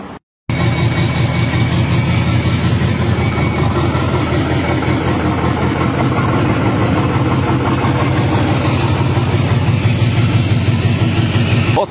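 A car engine, on a car about to be sold for scrap, starts after a brief gap and then idles with a steady, rough, low rumble that stays loud and close throughout, with no speech.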